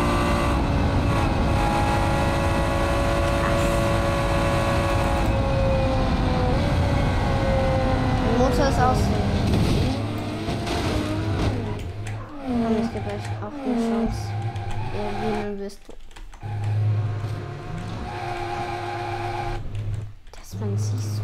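A car engine in the driving game BeamNG.drive drones steadily with rising pitch, then grows rougher and more broken as clatter and other noises break in.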